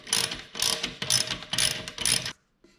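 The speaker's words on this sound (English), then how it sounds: "Now I'm going to loosen these hanger bolts." A ratchet loosens the exhaust hanger bolts on a motorcycle during a swap to a Vance and Hines Eliminator 400 exhaust, giving five quick bursts of clicking strokes, close and crisp, then silence.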